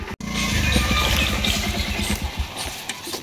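A new motorcycle's engine idling close by, a steady low throbbing putter with rapid regular firing pulses after a brief cut at the start, then slightly easing toward the end.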